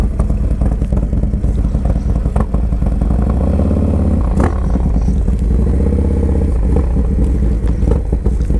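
A Harley-Davidson Dyna Low Rider S FXDLS rumbles steadily as it is ridden, a loud, deep continuous engine drone with some clatter and wind, close and unbroken.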